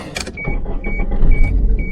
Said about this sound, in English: We are gonna start the Celica.